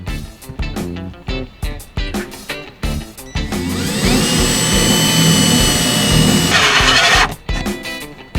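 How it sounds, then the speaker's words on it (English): Battery-powered drill boring into the back wall of an RV: a loud, sustained whining grind that runs for about three seconds, with a rising pitch near the end, set between bursts of short knocking and handling noises. "So I'm going to start by drilling myself a hole in there"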